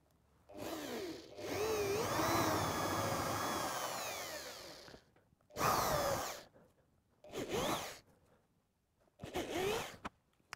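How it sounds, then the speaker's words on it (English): A power drill boring holes in scrap pallet wood for a coffee table, one long whining run followed by three short bursts with pauses between, close and fairly loud. "I'm going to drill the holes in this now."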